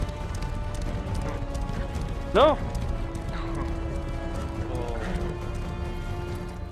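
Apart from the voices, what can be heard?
horses galloping and neighing in a video game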